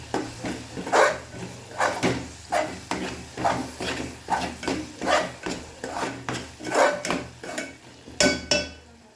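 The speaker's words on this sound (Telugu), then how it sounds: "కలిపేసి ఇప్పుడు ఎగ్స్ని పగలగొట్టి వేసేద్దాం" Eggs cracked one after another into a pan of onion curry, each bringing a short tapping knock against the rim followed by a scraping rasp, repeating in a steady rhythm at close range with no talking.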